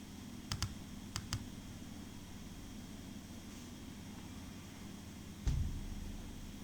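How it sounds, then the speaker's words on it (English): Quiet computer keyboard typing comes as a few short clustered key clicks near the start and one more tap later, over steady low background hum. "We will type here job title titles as the axis title."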